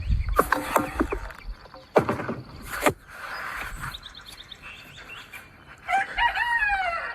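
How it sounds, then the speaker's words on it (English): Chickens in a backyard coop crowing and clucking close by, with loud bursts early on and a rooster crow near the end, no talk. "now we have the next generation of chickens growing up here"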